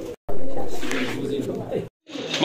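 Pigeons coo softly and closely in a loft while someone talks over them throughout.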